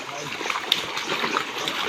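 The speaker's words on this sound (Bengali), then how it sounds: "ছোট মাছগুলো অনেক বেশি লাফাচ্ছে কাছে আনার পরে" Small fish leap and thrash inside a raised fishing net, giving quick, scattered wet splashes and a sharp slap close by over a constant watery trickle.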